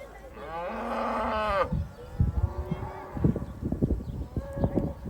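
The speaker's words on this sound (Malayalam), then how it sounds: "കുറേ പശുക്കളും ഉണ്ട്" Cows on a hillside farm near Hahei Beach give one long, loud, close moo, then quieter irregular rustling and murmuring voices follow.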